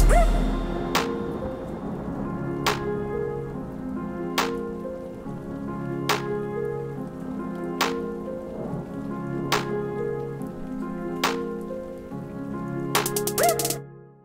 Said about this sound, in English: I got this from freesound.org, specifically Rain and Thunder 4 by Flathill